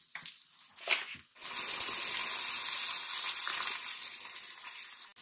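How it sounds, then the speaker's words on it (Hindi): Water poured into a hot pan of frying soya chaap masala, setting off a loud, steady sizzle and hiss that builds after a brief splash and holds for several seconds with no voices. "अब मसाला डालने के बाद इसके अंदर थोड़ा सा पानी डालेंगे कि मसाला जले ना"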